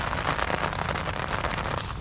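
Rain patters hard and close on a surface at a stealth campsite, a dense crackling hiss with no voices.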